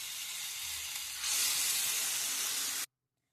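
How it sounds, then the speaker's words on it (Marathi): Jowar appe batter sizzles in an oiled appe pan, a steady close frying hiss that swells louder as the batter goes in, then cuts off abruptly. "आप्यांच्या भांड्यात मिश्रण घालू आता"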